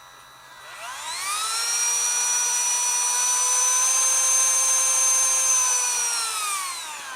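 Milwaukee M12 cordless rotary tool with a brushless motor spinning up to 37,000 RPM, a high, whining tone that rises quickly, holds steady and begins to wind down, heard close up with no talking.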